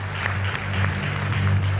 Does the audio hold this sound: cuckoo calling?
no